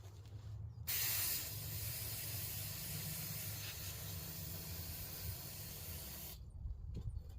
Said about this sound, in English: I want to blow that off real quick with some brake clean because I see pieces of clutch disc